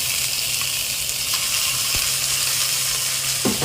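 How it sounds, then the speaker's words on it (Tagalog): Ground pork frying in a pan for sweet Filipino-style spaghetti sizzles steadily and close, with a bright hiss, a few faint clicks and one sharp tap of a utensil. "Add the giniling first kasi para maluto na yung giniling natin."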